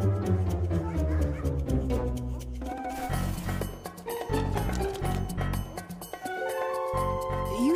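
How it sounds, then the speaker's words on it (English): Cartoon dogs bark and yip in a lively, overlapping jumble with a busy music and effects track, loud and continuous throughout. "Lenny, what is with those dogs of yours?"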